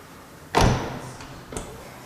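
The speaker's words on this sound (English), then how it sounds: "And just because I love doing it so much, close the doors." Doors of a Rolls-Royce Phantom closing: one heavy, solid thud followed a second later by a softer second shut, heard close in a quiet space.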